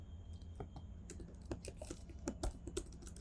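Quiet, irregular keystrokes on a computer keyboard while code is entered, soft close clicks in uneven bursts with a few sharper taps and no talking.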